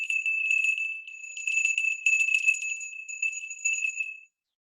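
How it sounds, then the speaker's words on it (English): Small bell rung during a meditation ritual gives a clear, high, pure ringing tone with a few gentle repeated strikes, sustaining for about four seconds before cutting to silence. "And just ring a little bell."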